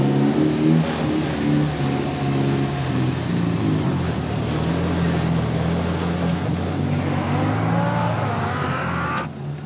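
A Ford EcoBoost Fox-body Mustang engine turns over and settles into a loud, rough idle, revving and surging repeatedly before cutting off abruptly at the end.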